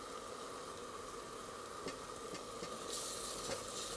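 Ground tomato and spices fry in a pan for a mixed vegetable dish, a quiet, steady hiss and sizzle that swells slightly toward the end, with a few faint stirring scrapes and no speech.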